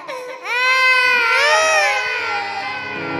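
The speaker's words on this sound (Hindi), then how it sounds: "बच्चे के रोने की आवाज सुनी नहीं तुसी" A baby's loud, sustained wailing cry with rising and falling pitch carries through the whole moment, heard over a quiet background during a devotional storytelling gathering.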